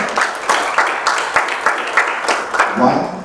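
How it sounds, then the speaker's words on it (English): An audience at an event claps for a doctor being recognized, a short burst of applause with distinct individual claps that is partly mixed with voices. "please give a big applause to Prashant"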